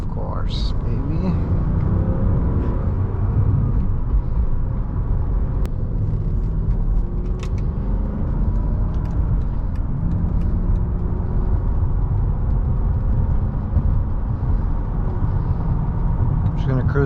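A 2005 Mercedes-Benz S500 W220 cruises on the road with a steady, loud engine rumble and tyre whir that holds throughout, with someone talking over it from inside the cabin.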